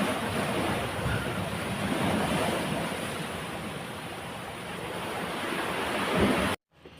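Sea waves wash against a coastal cave opening facing the open water, a continuous roaring surf with wind buffeting the microphone, cutting off abruptly near the end.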